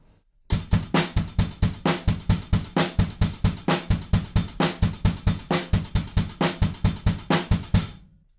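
Drum kit groove with sixteenth-note hi-hats, snare on beats two and four and kick drum, played steadily and loud for about seven seconds with no talking.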